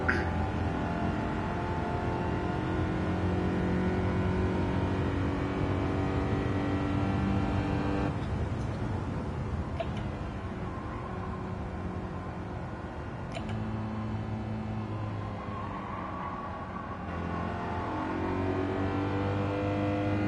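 A slow car's engine drones and revs steadily in Gran Turismo 7, played on PS5 with a Fanatec DD Pro wheel, with long gears and brief dips at each shift every few seconds, loud and with no talk.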